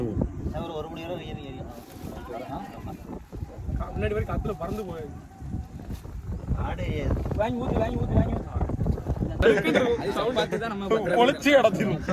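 Wind gusting at an outdoor hilltop temple festival, rumbling against the microphone in low buffeting bursts that grow stronger toward the end, with people talking throughout.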